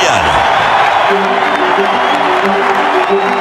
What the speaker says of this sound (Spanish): Los fans se ponen de pie. Le aplauden.